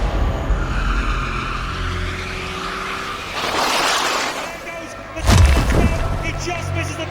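A Formula 1 car with broken, shaking suspension is heard at racing speed, with an engine drone and a rough, loud braking and skidding burst late on, partly under commentary voices.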